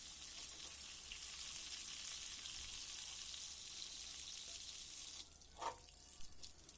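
Pointed gourd (potol) frying in hot oil gives a steady, close sizzle throughout, with a brief scrape or splash near the end as pieces are lifted out.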